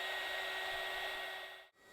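A heat gun or hair dryer blows steadily on resin in a cold room, a loud, close, continuous airy roar with a faint whine that cuts out abruptly near the end before briefly resuming.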